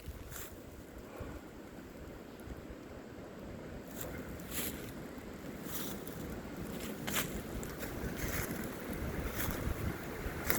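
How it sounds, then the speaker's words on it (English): Strong wind roars steadily through woods on a cold winter day, a broad, continuous rushing that builds slightly over time, with gusts buffeting the microphone and no speech. "the wind's really blowing now"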